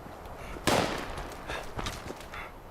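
Quad Automatic Alien Disintegrator tap-fired in Fallout 76, a few sharp energy-weapon shots, one loud burst followed by quicker softer pops spread across a couple of seconds.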